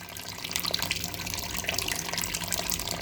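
Water runs steadily into a kitchen sink fitted with a newly replaced strainer, a continuous splashing flow that fills the whole stretch with no talk over it.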